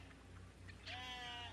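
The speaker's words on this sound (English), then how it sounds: "I can hear the sheep" A single faint sheep bleat in the video game Rise of Industry rises over a low steady background hum, quavering for under a second.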